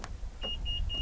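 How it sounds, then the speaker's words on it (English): A 2017 Honda BR-V 1.5 V locks via the keyless button on the driver's door handle: a soft mechanical click, then three short, clear electronic beeps in steady succession, close by, with no talk. "To lock the car, press the black button on the driver's side door handle."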